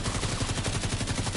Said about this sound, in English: Try to shoot the weak point.